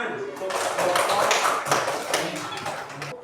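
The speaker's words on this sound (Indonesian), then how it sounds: "Beri tepuk tangan." A classroom of schoolchildren clapping together in quick, dense applause lasting a few seconds, fairly close and loud, with voices mixed in.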